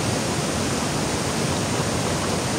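Water pours and splashes steadily as someone washes at a well, a loud, continuous rushing wash close by with no pauses and no talking.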